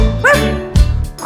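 A cartoonish dog gives two short, loud, close barks in a children's farm-animal song, likely voiced or synthesized rather than a real animal.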